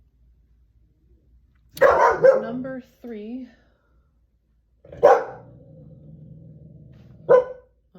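A dog barks in short bursts, about three or four times spaced over several seconds, fairly close and loud, while a person speaks between the barks.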